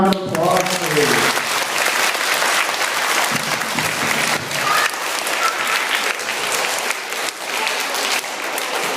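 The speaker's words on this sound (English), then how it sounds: "Let's give all 3 candidates one more big round of applause, please." A crowd gives a big round of applause for three mayoral candidates at a forum in the Albert S. Hall School in Waterville, a loud, sustained clapping that follows a brief voice at the start.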